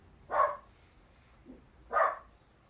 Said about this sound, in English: We'll let the dogs clear with their barking.